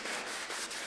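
Sandpaper rubbed by hand over a varnished wooden surface near masking tape, a close, steady scratchy swishing in repeated back-and-forth strokes with no talk.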